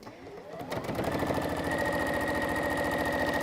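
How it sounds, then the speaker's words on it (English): Sewing machine top stitching a fabric bag, starting up and settling into a steady fast mechanical whir with rapid needle rhythm, close and loud. "just top stitch along that line that you've just folded over"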